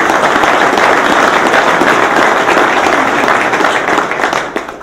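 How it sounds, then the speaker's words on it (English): A crowd at a golf association's annual meeting breaks into a sustained round of applause, dense clapping that holds steady and then begins tapering off near the end. "A round of applause for the two of them."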